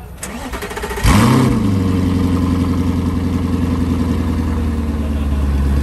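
An Audi R8 supercar engine cranks, fires with a sharp rev flare, then drops into a loud, steady burbling idle up close.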